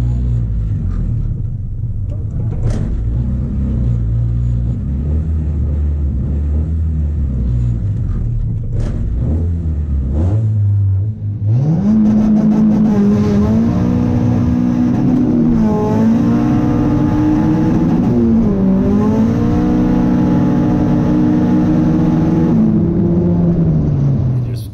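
Turbocharged B18-engined hatchback revving hard during second-gear burnouts, a loud, close engine climbing and holding high revs with rumbling, wavering pitch changes and no talk.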